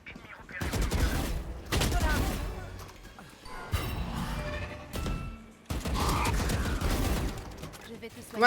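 Bursts of gunfire in a video game shooter match come in several loud clustered volleys separated by short pauses, with a player talking in between.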